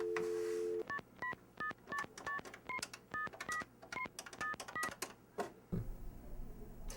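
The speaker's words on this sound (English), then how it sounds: "I'm going to give Paul a call first here" Telephone keypad tones beep one after another, about fifteen short distinct dialing tones in irregular quick succession after a brief dial tone, followed by a faint ringing line.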